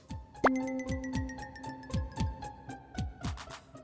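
A phone rings in a domestic drama scene, a sustained electronic tone pattern with several held pitches running under a steady series of sharp plucked or struck notes and taps.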